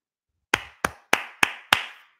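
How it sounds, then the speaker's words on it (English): Five sharp hand claps, evenly spaced about a third of a second apart, close and crisp with short decaying tails, after a brief silence. "A bunch of Jason Garrett claps to all you guys"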